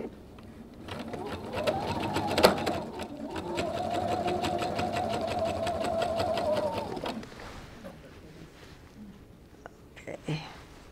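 A domestic sewing machine stitches fabric on a 2.5 stitch length, running in a steady close whir for several seconds with a brief pause and a restart, then stopping; faint handling noises follow, with no talk.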